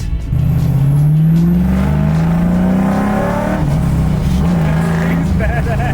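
An LS-swapped Camaro's V8 revs and climbs in pitch as it pulls away and accelerates, loud and close from inside the car, with people talking excitedly over the engine.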